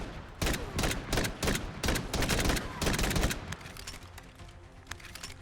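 Rapid, loud bursts of Desert Eagle .50 AE gunfire in Fallout 4, the shots cracking close together in a fast volley that then thins into scattered, quieter reports.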